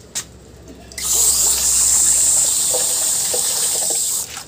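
Fruit rinsed under a running tap, a steady loud hiss of water that starts after a moment of quiet and runs alone until it is turned off.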